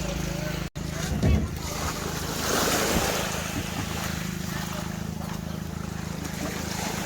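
A boat engine drones steadily with sea waves and wind rumbling around it, close by, while voices talk briefly over the noise.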